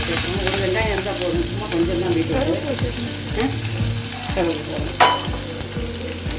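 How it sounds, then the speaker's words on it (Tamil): Oil sizzles steadily in a hot pan with mustard seeds, urad dal, green chilli and onion frying for beetroot stir-fry, scattered pops and crackles, and a brief clatter of stirring. "இப்போ எண்ணெய் காஞ்சிருச்சு கடுகு உளுத்தம் பருப்பு கொஞ்சம் சேர்த்துக்குவோம்"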